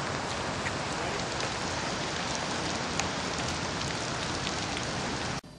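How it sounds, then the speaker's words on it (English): Steady rain hisses on a surface, dense and even throughout, then stops abruptly at the end. "it's raining"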